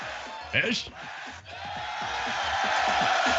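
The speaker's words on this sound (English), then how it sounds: "make some noise, crowd" A live audience at the SBX Beyond the Beats 2020 show whoops and cheers, swelling from scattered yells into a sustained, building roar while a host speaks over it.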